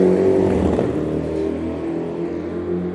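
Sports cars in a video game rev and roar continuously at high volume, a dense engine drone with rising pitch sweeps near the start and a steady throaty hum through the rest.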